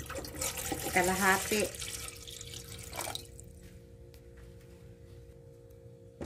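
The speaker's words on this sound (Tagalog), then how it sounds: "Lagyan ko siya ng tubig." Water pours and splashes into a rice cooker steamer for about three seconds while a person says a word, then a quiet hum remains.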